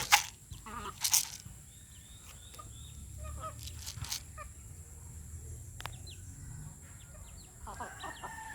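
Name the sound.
chickens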